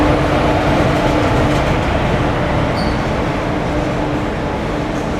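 A WP4 locomotive hauling the Vasco-da-Gama to Tirupati weekly express, heard as a loud continuous rumble of a moving train with steady wheel and carriage noise and a brief faint squeal.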